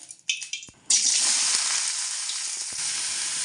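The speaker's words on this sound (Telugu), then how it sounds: "ఇక్కడ చూడండి పచ్చడికి వేసిన బాండల్లోనే గుడ్డు కూడా చేస్తున్నాను" Egg dropped into the same hot pan used for chutney, bursting into a loud, steady frying sizzle after a brief lead-in of clatter, continuing close and unbroken.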